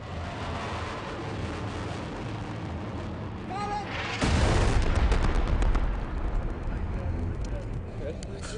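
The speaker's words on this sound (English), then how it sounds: "Sounds like they got somebody with that bomb." A bomb explosion in a combat zone, a sudden loud boom that bursts in midway and rolls out over several seconds amid background rumble and noise.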